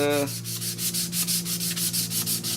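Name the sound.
sanding rust off a mailbox post with sandpaper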